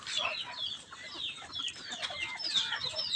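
Chickens cluck busily while waiting for feed, a dense overlapping chorus of short calls close by, with no voices.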